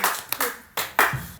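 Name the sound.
people clapping hands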